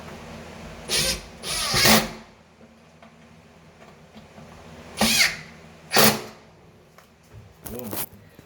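A Makita drill drives a screw into a cabinet handle, its clutch slipping in several short, loud ratcheting bursts separated by pauses over a steady low hum.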